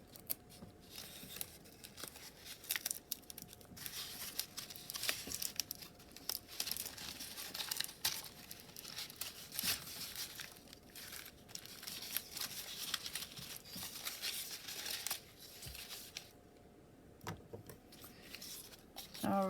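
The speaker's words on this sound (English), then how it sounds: "I'm going to continue adding some strips and doing my twisting method until I have the size of tree that I'm trying to create here" Paper strips crinkle and rustle continuously while being twisted and wrapped around a growing tree-shaped form made for an emoji tree craft, with occasional sharper tape sounds, close and steady throughout.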